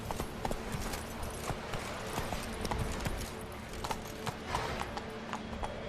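Roach the horse trots in The Witcher 3, hooves clip-clopping in a steady, even rhythm at close range, fairly quiet, with no talk over it.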